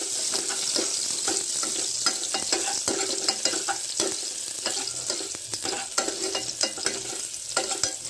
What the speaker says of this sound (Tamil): அதில் போட்டுக்கிட்டு நல்லா ஒரு தரம் வந்து அதை கிண்டி விட்டுக்கணும்